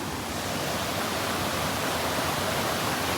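Steady, loud rush of a waterfall heard up close, a constant broadband roar of falling water with no breaks and no voices.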